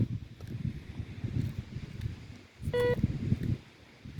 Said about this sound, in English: When I bump the sand, it beeps like this.